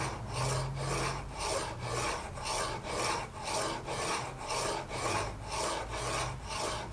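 A hacksaw blade blank for a Mastermyr replica is stripped by hand with a file, steady rhythmic rasping strokes, about two per second, close and alone.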